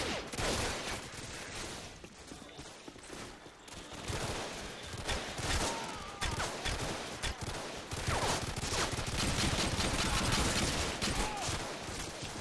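Sustained gunfire in a shooter video game: rapid bursts and overlapping shots rattle on for the whole stretch, loud and dense, with faint footsteps mixed in.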